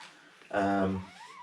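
A single high, wavering whimper from a three-day-old Bullmastiff puppy rises briefly out of quiet background, close and short, followed by faint soft squeaks.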